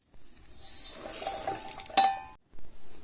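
Freshly fried spices for homemade sambar powder tipped from a pan into a metal vessel, a sustained close scraping and rattling pour with a sharp clink near the end, then a brief knock after a pause.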